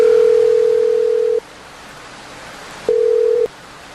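Telephone dial tone while placing a call, a steady loud tone that cuts off, pauses through faint hiss, then sounds again briefly.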